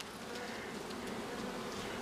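A colony of honey bees at the hive gives off a soft, steady buzzing drone with no clear breaks, heard faintly and alone while a strong colony works frames of capped honey.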